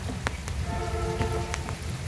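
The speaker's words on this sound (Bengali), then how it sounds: "তো বৃষ্টি সম্ভবত আরো বেশ কিছু সময় হতে পারে।" Rain falling in a village during the rainy season under a cloudy sky with rumbling thunder, a steady close patter on surfaces with a few sharper drops.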